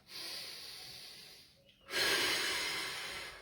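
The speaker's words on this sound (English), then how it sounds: "Might want to take a couple of deep breaths." Two deep breaths taken close to the microphone during a morning mobility exercise session: a long airy inhale-exhale, a brief pause, then a second louder, breathier breath.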